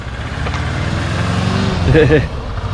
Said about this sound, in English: I love the sound of these old things. Old petrol engine, look.